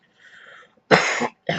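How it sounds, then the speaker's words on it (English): A single person coughs twice: a sharp, loud burst followed by a shorter second cough, preceded by a faint throat noise. "I had to cough."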